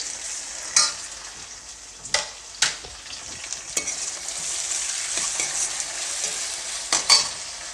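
Chopped onion and tomato fry for Bansi rava upma, a steady moderate sizzle punctuated by repeated sharp clicks and scrapes of a spoon stirring the pan.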